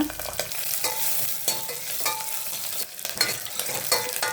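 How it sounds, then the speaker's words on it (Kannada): Mustard seeds, curry leaves and onion fry in hot oil, a close crackling sizzle with sharp spattering pops and scraping stirs against the pan. "ಈಗ ಸ್ವಲ್ಪ ಸಾಸಿವೆ ಹಾಕೊಳ್ಳೋಣ, ಸ್ವಲ್ಪ ಕರಿಬೇವು, ಕಟ್ ಮಾಡಿರೋ ಅರ್ಧ ಆನಿಯನ್. ಇದು ಸ್ವಲ್ಪ ಫ್ರೈ ಮಾಡ್ಕೊಳ್ಳೋಣ"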